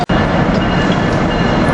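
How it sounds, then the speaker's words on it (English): Amtrak Regional 140, led by AM7 locomotive 934, pulls north out of 30th Street Station, a steady loud rumble of rolling wheels and engine close by, continuous for the whole stretch after a brief opening gap. "Here we got Amtrak Regional 140 leaving with AM7 934 taking it north."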